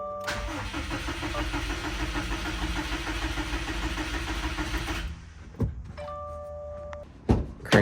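A 2015 Subaru STI cranks steadily for about five seconds without catching, a loud even whir that then stops, followed by a few sharp clunks and clicks.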